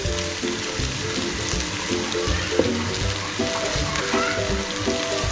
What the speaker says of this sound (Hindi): अब इसमें 1 चम्मच लहसुन और अदरक का पेस्ट शामिल करेंगे। इसे भी हम ऑयल में अच्छी तरह से फ्राई कर लेंगे।